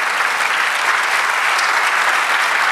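A church congregation breaks into steady, dense applause during a sermon, many hands clapping together at full volume with no voice over it.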